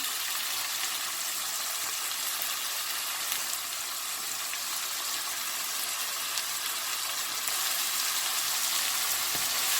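Diced tomato frying with shrimp and vegetables in a pan gives a steady, moderate hiss and sizzle, stirred lightly now and then, with no talk over it.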